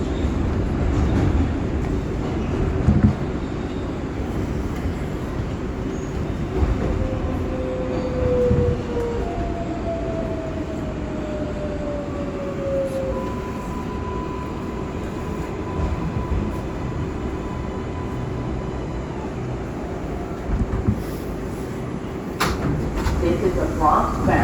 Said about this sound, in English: This is a Bronx-bound 6 local train.